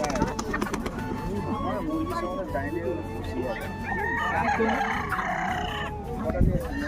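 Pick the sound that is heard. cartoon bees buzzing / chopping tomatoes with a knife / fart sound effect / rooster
rooster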